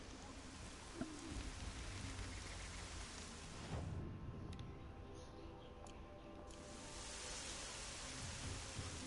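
Steady rain falls in the video game Horizon Zero Dawn, a continuous broadband hiss of drops at low level that briefly thins in the middle before returning, with no talk over it.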